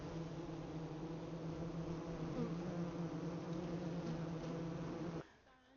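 Honey bees buzz around their hives in a dense, steady, droning swarm close by, continuing for about five seconds before cutting away to quiet.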